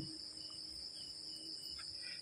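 Crickets chirp at night, a steady high-pitched trill running continuously at a faint, even level with no speech over it.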